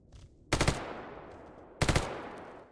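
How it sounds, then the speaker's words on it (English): Two loud, close bursts of rapid automatic gunfire in the video game S.T.A.L.K.E.R. GAMMA, each a quick cluster of shots trailing into a long echoing decay. "There was some gunfire"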